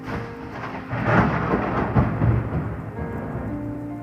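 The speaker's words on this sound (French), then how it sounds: "Le tonnerre même valide ce que j'ai dit" Thunder rolls in a long low rumble that swells and fades over rain, steady and fairly loud, with no talk over it.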